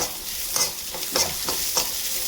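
Onions and spices fry in a pan for mushroom curry, a continuous close sizzle punctuated by a few evenly spaced spatula scrapes as the mixture is stirred, with no one speaking.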